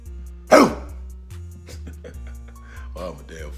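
A voices a single short, harsh bark imitating a dog, followed by quiet murmuring vocal sounds.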